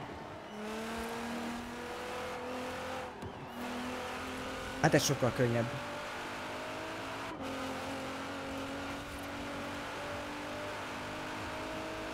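Nissan GT-R engine in the racing game Forza Horizon 4, a steady droning tone rising through the gears with a brief burst of harsher noise midway, heard beneath someone talking over it throughout.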